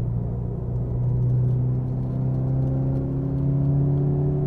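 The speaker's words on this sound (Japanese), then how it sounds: "フルブレーキングを開始" A car on a race track under full braking from over 100 km/h, a steady loud engine drone with a sustained low hum and a faint rise in pitch, no voices over it.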